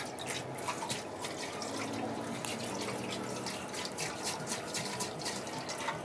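Rusty water draining out of a cleaned bike fuel tank after rust removal, a continuous splashing trickle with irregular drips and gurgles, close and fairly quiet throughout.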